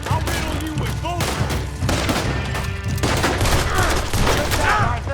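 Gunfire in a Red Dead Redemption 2 shootout with Lemoyne Raiders over liquor, a dense, continuous fusillade of overlapping shots and booms, loud and close, with shouted voices mixed in.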